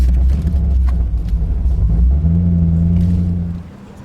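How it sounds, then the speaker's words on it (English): A drift car engine rumbles loudly up close as the car turns, a deep steady tone that rises in pitch briefly before the sound drops away near the end. "that's the turning circle of a drift car"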